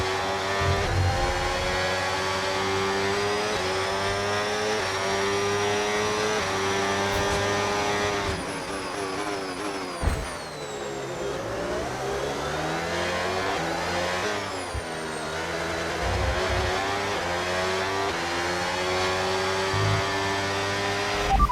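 Formula 1 race car engine from the video game F1 26, at the Australia track, screams continuously at high revs, pitch climbing and dropping through rapid gear shifts; loud and alone, without talk.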